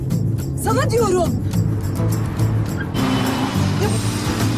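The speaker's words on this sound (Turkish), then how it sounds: "Ya, bu kadar hızlı kullanılmaz bir araba ama." A car driven very fast, its engine roaring in a steady, loud low drone throughout, with voices talking over it.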